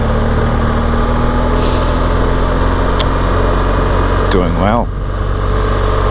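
BMW GS motorcycle in second gear, ridden nice and easy on mud: a loud, steady engine drone runs throughout, and a voice speaks briefly over it near the end.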